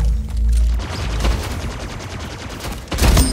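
Gunfire rattles through a round of the video game Splitgate as loud, dense bursts of shots, with a heavier blast near the end.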